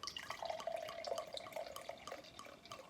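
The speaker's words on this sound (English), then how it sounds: "No, first I'm going to pour the one that has no yeast." Homemade ginger beer made without yeast is poured into a glass, a faint, steady trickling stream with small splashes and fizz, no talking.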